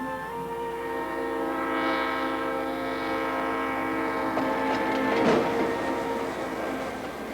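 A coal unit freight train rumbles past with a sustained horn blaring over steady rolling noise, building in intensity near the end.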